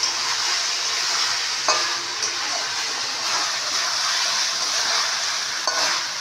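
Paneer and broccoli fry with tomato, chilli and soy sauces, a steady close sizzle and hiss with a few light taps of a spatula stirring in the pan, no talking.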